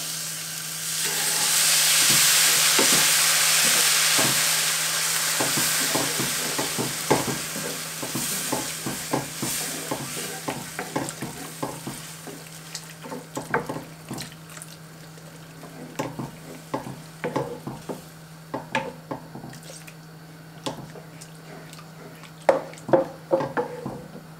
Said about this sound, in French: Je vais déjà donner un petit coup de cuillère pour mélanger les cubes qu'il y a dedans.